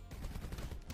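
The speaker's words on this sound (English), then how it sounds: "Stop shooting me like that." Rapid gunfire in the video game Super Crush K.O., a dense burst of quick shots packed into a single second, steady and fairly loud.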